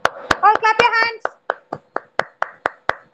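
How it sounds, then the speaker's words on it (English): Children at a nursery class session clap their hands in an even, steady rhythm of about a dozen sharp, close claps, with a voice briefly speaking over the first few. "Yes, all clap your hands."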